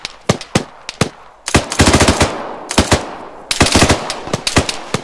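Gunfire in the military shooter Arma 3, loud and close: single shots at first, then rapid automatic bursts in quick rhythmic clusters, with no talk over them.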